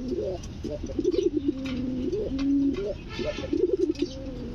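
Pigeons coo close by in repeated throaty, rolling phrases, a few bursts in a row against a quiet background with no talking.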